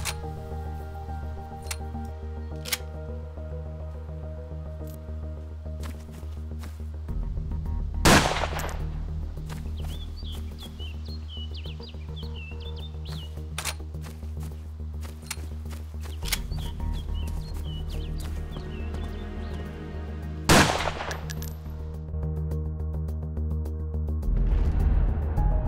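A single-barrel rifle fires in the video game DayZ, a few loud, sharp shots spaced far apart over a steady droning game background.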